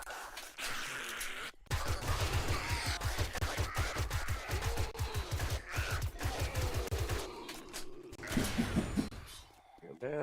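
Rapid automatic gunfire from the zombie survival game 7 Days To Die rattles in a long, steady burst of evenly spaced shots, with short bursts again toward the end and game effects layered over it.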